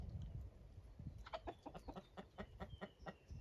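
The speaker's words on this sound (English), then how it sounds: "So they had ducks and turkeys, and of course the chickens." Chickens cluck at a farm alongside ducks and turkeys, a run of short, rapid clucks at moderate distance over a quiet outdoor background.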